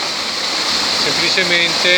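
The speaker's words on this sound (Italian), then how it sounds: "un canale con questa uscita così prorompente, molto bella" Water gushes loudly and steadily from a mill canal outlet at Roggia dei Molini, Gemona del Friuli, a close continuous roar with someone talking over it.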